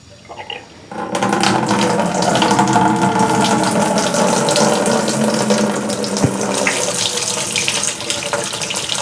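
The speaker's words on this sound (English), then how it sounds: "all I gotta do is let that drain into my bucket" Homebrewed nut brown ale draining into a bucket: a loud, steady, close rush of pouring liquid that starts abruptly and keeps splashing without a break, with no voices.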